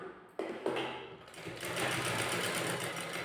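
Sewing machine stitching net fabric for a kurti neckline, starting after a couple of soft clicks and then running in a fast steady whir that holds close and even until the end.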